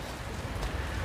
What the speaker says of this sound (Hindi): मैं बारिश में वीडियो बना रहा हूँ, आप देख सकते हैं मैं भीग रहा हूँ